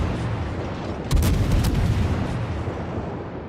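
A naval gun fires in the World of Warships video game, landing as a single sharp boom just over a second in, then lingering as a rumble over dense battle noise, with no speech.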